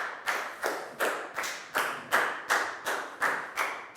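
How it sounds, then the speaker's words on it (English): A school class claps in unison for a classmate, about ten sharp, evenly spaced claps in a steady beat, fairly close and with no talking. "Big round of applause for Net"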